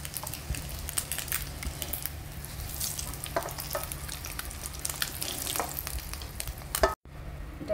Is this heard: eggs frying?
yes